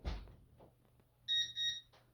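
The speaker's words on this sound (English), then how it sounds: "the system will beep twice to let me know a door is open" A Concord 4 home security system sounds two short electronic chime beeps as the front entry door opens, clear and close after a soft thump of the door.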